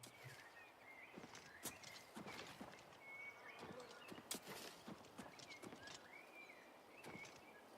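Horse hooves clip-clop at a walking pace in Oblivion Remastered, a steady rhythm of close, moderately loud hoof strikes with occasional sharper knocks, layered over ambient game sounds.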